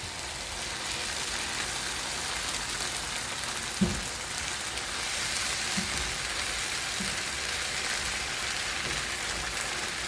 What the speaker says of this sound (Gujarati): બધી વસ્તુને કરી નાખશું થોડું પિંકીશ ઉપર સોતે.